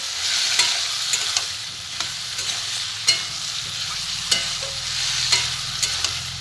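Soybean curry with spices and potatoes sautéing in a pan, a steady loud sizzle broken by repeated clacks of a spatula stirring and scraping through the masala.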